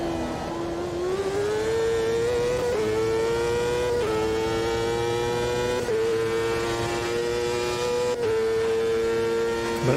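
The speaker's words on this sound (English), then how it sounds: "Honda engine sounds a little bit more whistly. You can hear the turbo more" A Honda turbocharged race car engine roars in the Automobilista 2 sim at Road America, a loud, steady near drone with whistly turbo tone, climbing through repeated upshifts every couple of seconds.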